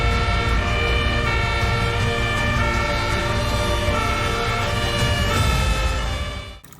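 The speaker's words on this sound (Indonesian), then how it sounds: "Ada mobil damkar." A toy fire truck's electronic siren wails loudly and steadily for over six seconds, then cuts off abruptly.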